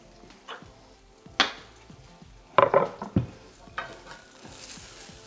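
Garlic and spring onion frying in a hot wok for Cantonese cooking, with soft sizzling under a few sharp scrapes and stirring clatters of the utensil against the pan.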